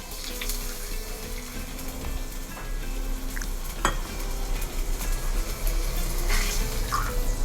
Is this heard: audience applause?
no